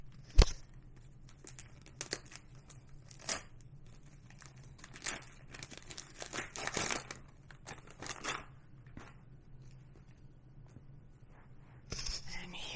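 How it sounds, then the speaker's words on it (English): Paper crinkles and tears close at hand as a wrapped book is unwrapped, with soft bursts of rustling and crumpling spread across the stretch and a few sharper crackles, with no voices. "let's just go ahead and unwrap this one as well"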